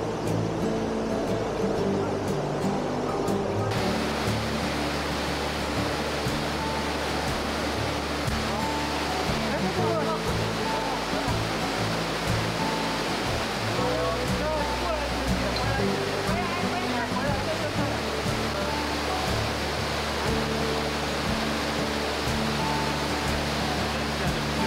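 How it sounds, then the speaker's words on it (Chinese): Rushing rapids of the Oirase stream roar continuously at close range, a loud, broadband water rush that never lets up, with faint voices now and then beneath it. "也不算瀑布啦，就是激流"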